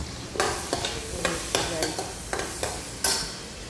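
Spices crackle and sizzle in hot oil while tempering in a pan, a utensil stirring and scraping in regular strokes, close up.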